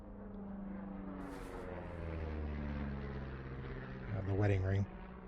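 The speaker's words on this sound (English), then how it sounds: "You see that plane?" Propeller airplane droning overhead in Firewatch, a faint steady hum that swells briefly near the end, mostly beneath conversation.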